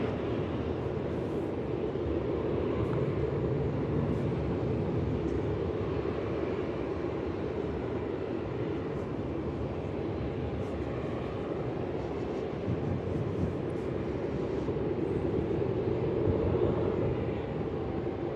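A landing airliner at Melbourne Airport, with reverse thrust engaged on touchdown, makes a loud, steady broadband jet roar that holds with little change for the full stretch.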